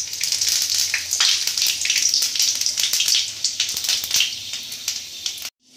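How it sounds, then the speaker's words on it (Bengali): Bengali five-spice seeds (panch phoron) and a dried red chilli sizzle in hot oil in a kadai wok, a dense, steady crackle with sharp pops throughout that cuts off abruptly near the end. "প্রথমে আমরা কড়াইতে তেলের মধ্যে দিয়ে দেবো 5 ফোড়ন"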